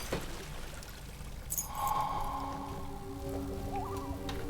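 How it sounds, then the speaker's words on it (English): Water pours and trickles to flush a key out in the Amnesia: The Dark Descent video game, a continuous splashing stream over dark, rumbling ambient game sound. "we just have to flush it out with some water"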